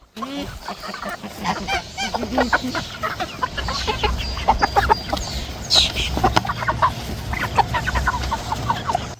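Broiler chickens clucking and squawking in a busy flock at feeding time on a homestead, the calls overlapping continuously and close by, with a person speaking over them now and then.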